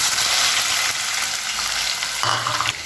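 Onions frying in a pan with cumin seeds for khichdi give a steady, close, loud sizzle that holds throughout, with a brief burst of added crackle near the end.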